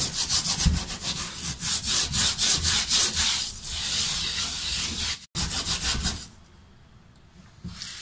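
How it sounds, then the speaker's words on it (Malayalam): A wooden cutting board gets scrubbed hard with a steel scrubber in quick rhythmic rasping back-and-forth strokes, close and loud, pausing briefly before a few more strokes and a quieter end. "ഇതുപോലത്തെ സ്റ്റീലിൻ്റെ സ്ക്രബ്ബർ കൊണ്ടൊന്ന് നന്നായിട്ട് അരച്ചു കൊടുക്കുക വെച്ച് കഴുകുക"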